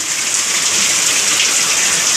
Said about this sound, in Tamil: மழை தண்ணியில் குளிக்க போகிறாங்க.